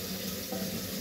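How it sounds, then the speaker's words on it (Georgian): Hot water runs from a kitchen tap in a steady, continuous rushing splash, close by and fairly quiet, with no voices. "აი მე მოვუშვათ ცხელი წყალი"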